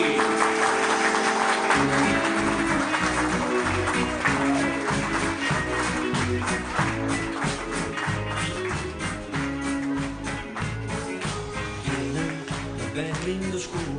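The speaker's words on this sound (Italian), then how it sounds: "Accogliamo con un forte applauso il bravo Jenny!" Applause welcoming a young Neapolitan singer on stage, quickly overtaken by a loud, rhythmic music intro with a steady beat that dominates the rest of the clip.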